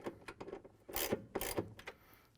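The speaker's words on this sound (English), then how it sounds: "I'm going to install them with the 3/8 socket wrench" A 3/8 socket wrench driving bolts into a GE washer mode shifter, a few quick close ratcheting clicks and rubbing strokes, quiet and alone.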